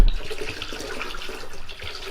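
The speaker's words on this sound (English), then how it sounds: "So I'm going to pour some of that in there so this doesn't freeze." Windshield washer fluid is poured into a container for a homemade mouse trap, giving a steady gurgling splash close by that starts with a brief thump and carries on with no one talking.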